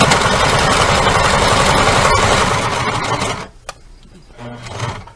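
A sewing machine running a straight forward stitch along a cornhole bag, a loud, rapid, steady mechanical whir close by that stops abruptly after about three and a half seconds, leaving faint handling noises.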